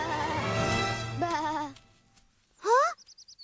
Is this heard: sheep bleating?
yes